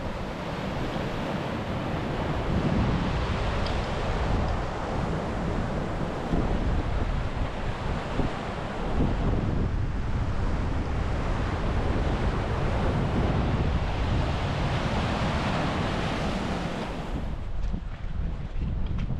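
Continuous roar of North Sea surf and wind at the Giant's Causeway, Ireland, broad and steady throughout, with heavy buffeting on the microphone and no talking.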